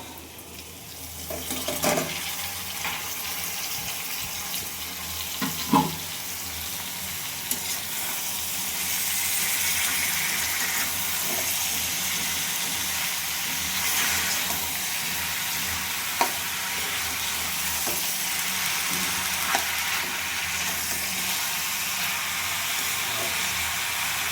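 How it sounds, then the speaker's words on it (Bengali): Shrimp cooking down in a pan with boiled bottle gourd greens, a steady broad sizzle running throughout with a few sharp scrapes and clinks standing out, close and moderately loud, no talking. "খুব সুন্দর করে চিংড়ি মাছটা কষিয়ে নিতে হবে বন্ধুরা আর এই যে লাউ শাকটা সিদ্ধ করে রেখেছিলাম এটা এখন দিয়ে দেবো"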